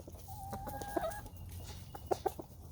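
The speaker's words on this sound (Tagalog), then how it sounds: "ang ating mga manok gusto nilang lumabas" Several hens in a chicken coop on a cold day cluck softly and sporadically nearby, with short clipped calls and a couple of sharper squawks toward the end, over a low background hum.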